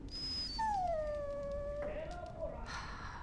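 A dog whimpers in the video game Dragon Age: Origins: one long, high, drawn-out whine that slides gently downward in pitch. It sits close and clear over quiet background game ambience.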